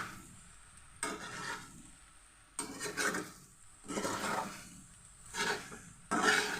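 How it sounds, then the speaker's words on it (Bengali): Chow mein noodles are tossed with chow mein masala in a pan. Four or five scraping, sizzling stirring strokes come about every second and a half, separated by quieter gaps. Nobody talks. "ভালোভাবে নেড়ে দিব"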